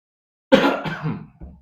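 A single sharp cough up close, followed by a rougher throat-clearing rasp and a short low grunt, with silence before it.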